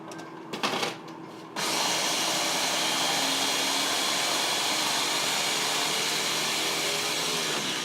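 An electric grinder grinds nuts with a little coconut oil into keto nut flour. It starts with a couple of short stuttering bursts, then settles into a loud, steady, close motor whir that runs without pause.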